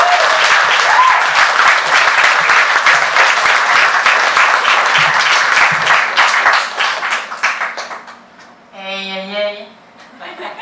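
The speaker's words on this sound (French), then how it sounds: "On l'applaudit bien fort." A live audience claps loudly and continuously to welcome a performer onstage, a dense wash of applause with some laughter that fades after about seven seconds, leaving a brief voice and a short musical tone near the end.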